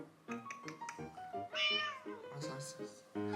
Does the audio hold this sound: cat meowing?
yes